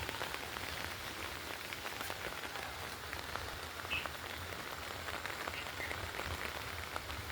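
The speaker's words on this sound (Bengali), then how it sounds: "বৃষ্টি কিন্তু হচ্ছে একরকম, বৃষ্টি হওয়ার তালেই আছে, তার সাথে বাতাস হচ্ছে।" Steady rain falls with wind in a continuous, even hiss of drops on surfaces, close and moderately loud, with occasional sharper drips and a low rumble underneath, no voices.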